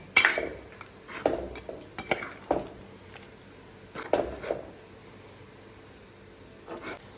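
Fish curry being stirred in a pot, with a spoon scraping and clinking against the metal in several sharp bursts, then quieter gaps, close up and with no talk.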